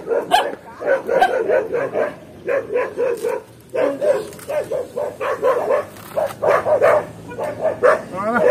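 A dog barks repeatedly at a rural family gathering where green corn is being roasted over a fire, with rapid bursts of loud, close barking and some whimpering yips, while people's voices overlap the noise throughout.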